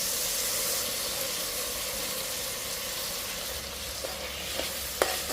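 Tomato cooking in oil with ginger-garlic paste gives a steady, close sizzle and hiss, with a few soft spoon taps near the end and no voices.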